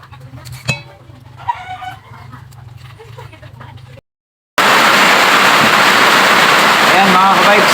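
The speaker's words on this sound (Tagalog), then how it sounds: "Medyo malakas yung ulan." Heavy rain pours down in a steady, loud roar that starts abruptly partway through, after a quieter stretch with a rooster crowing, clucking fowl and faint voices in the background.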